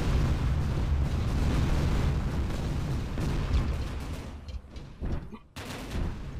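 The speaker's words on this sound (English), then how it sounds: "they're just bombs that occasionally explode" Bombs exploding in the video game Tower of Guns, a dense continuous rumble of blasts that thins out toward the end into a few separate bursts.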